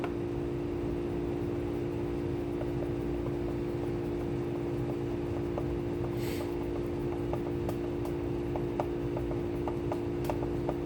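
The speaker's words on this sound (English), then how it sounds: "Watch an old man put screws in." Screws are driven into a cigar box guitar by a steady humming driver, with faint ratcheting clicks ticking at a regular pace close by.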